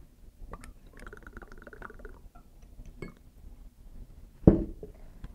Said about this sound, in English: Add 1 ounce of Fireball.